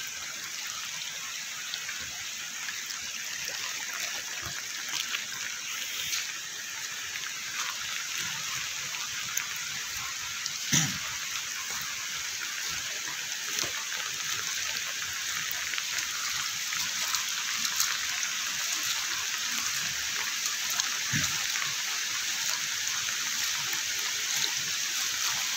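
Heavy rain and rushing floodwater pour down from the mountain, swelling a stream in Palarao, Leyte, as a steady broadband wash that holds moderately loud throughout, with occasional brief splashes and no talk.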